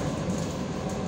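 A Russian suburban electric train runs steadily, a loud, continuous rumble and rattle with faint clacking, close by and without voices.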